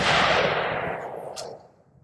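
A shotgun firing a Dragon's Breath incendiary round loaded with magnesium pellets: one loud blast with a rushing, hissing roar that fades over about a second and a half, standing alone.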